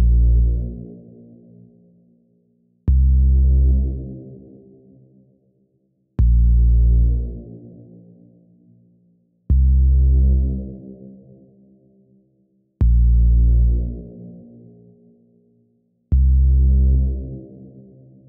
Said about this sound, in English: The bass in this track sounds like this, soloed.